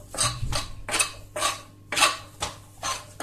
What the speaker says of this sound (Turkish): Şimdi bu, bu şekilde doğrayalım.